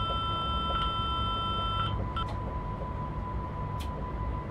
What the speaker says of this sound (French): à acquitter pardon le l'alarme de vigilance, le ZIFA